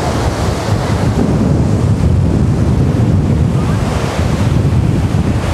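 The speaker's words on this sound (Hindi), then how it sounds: "ये देखिए इंतहाई खूबसूरत आबशार, पहाड़ से आता हुआ बेपनाह पानी।" Rushing water from a mountain waterfall at Munthoka in Kharmang, Gilgit-Baltistan roars continuously, a dense loud wash mixed with strong gusting wind buffeting the microphone.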